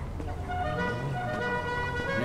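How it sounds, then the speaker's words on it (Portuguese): A car horn honks in a GTA V street scene, a few sustained tonal blasts sounding at moderate distance over low traffic rumble. "Tem alguém buzinando aí, velho."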